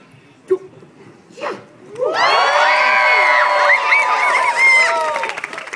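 Crowd at a fair performance at Sherwood Forest Faire bursts into loud yelling, cheering, screaming and clapping after a brief count-in voice, the roar sustained for several seconds with children's shrieks on top.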